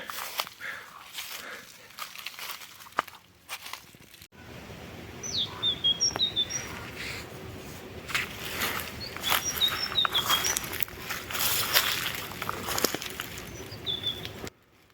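Small birds chirp and tweet in short high bursts in a pine and birch forest during mushroom picking, moderately near, over rustling footsteps and ambient forest noise.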